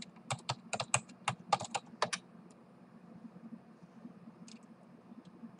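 Quick bursts of typing on a computer keyboard as login details are entered, close clicking clustered over the first two seconds, then a near-quiet room with a faint hum and one last soft tap.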